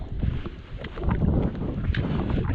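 Outdoor wind on open access land at Minninglow buffets the microphone in low, uneven gusts, close and rumbling, rising and falling over a few seconds.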